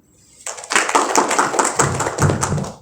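Audience at a PATBM Tanah Bumbu session clapping, a short burst of scattered applause starting suddenly and continuing irregularly for a couple of seconds.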